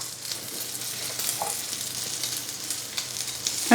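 Garlic butter, about a tablespoon, sizzles steadily in a hot pan while making a chicken Kiev burger, a close, continuous crackling hiss with small pops and no talking.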